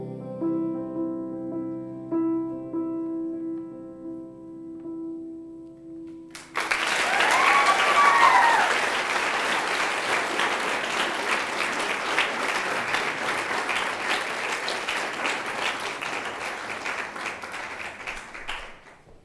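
An audience at a school assembly breaks into sustained applause after music fades out, many hands clapping densely and loudly at first, then continuing steadily and tapering toward the end.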